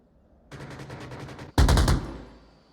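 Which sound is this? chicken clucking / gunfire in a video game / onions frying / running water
gunfire in a video game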